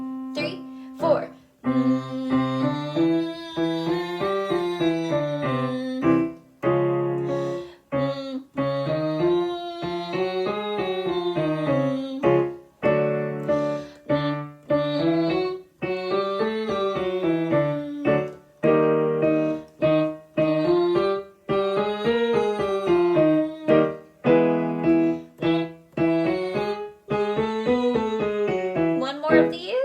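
A voice hums a vocal warm-up in smooth legato, gliding up and down through repeated stepwise patterns with short breaths between phrases, steady and close for about thirty seconds, with a faint backing accompaniment.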